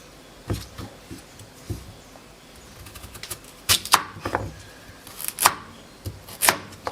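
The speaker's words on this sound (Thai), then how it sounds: "หั่นเตรียมไว้นะคะ" A knife chops carrots on a cutting board in a run of irregular sharp taps, some single and some in quick clusters, close and clear with no talking.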